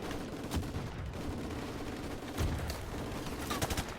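Call of Duty Modern Warfare Remastered gunfire: a few sharp, distant-sounding shots pop out of a steady rumbling battle background, spaced irregularly across a short stretch with no talking.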